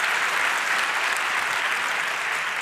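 Steady, dense applause from a conference audience at the 30c3 hacker congress, filling the whole stretch at an even, full level with no voices over it.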